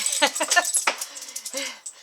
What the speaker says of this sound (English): here comes one of the dogs